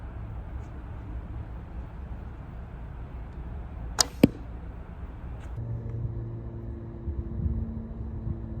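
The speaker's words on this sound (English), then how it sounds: "handmade flint head with sinew binding" A longbow arrow tipped with a handmade flint broadhead bound in sinew strikes a ballistic test target. A sharp double impact cracks out midway over a low rumble of background noise, with some faint knocking afterward.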